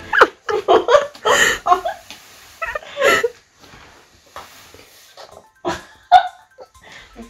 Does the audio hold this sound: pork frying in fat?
no